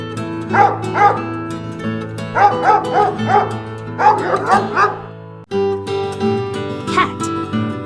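A dog gives several quick bursts of yappy barks in clusters over a soft musical backing, then a single bark near the end.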